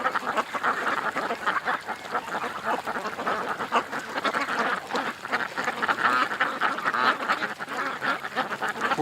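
Ducks quack repeatedly at a pond edge among bulrushes on a freezing winter day, a dense, steady chorus of overlapping calls that stays loud throughout.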